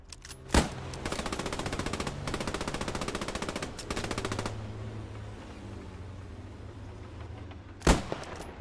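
Sustained automatic gunfire in the World War II shooter Post Scriptum, rapid bursts from a machine gun rattling for several seconds, bracketed by two sharp, loud single shots near the start and end, with no talking.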